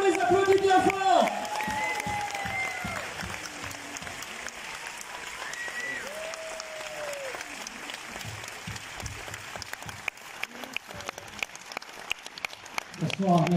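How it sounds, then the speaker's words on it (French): A cinema audience at a film premiere applauds the film team, a steady wash of clapping under shouted voices and whistle-like tones that fades slightly before swelling again at the end. "on les applaudit bien fort"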